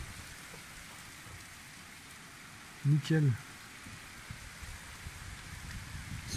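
A nighttime rainstorm pours down in a steady, loud wash of rain, with a short spoken word breaking in briefly near the middle.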